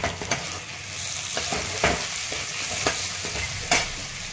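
Curry leaves sizzle and crackle in hot oil in a pan while poha is being made, with a steady frying hiss broken by sharp pops and stirring clatter, close and without talk.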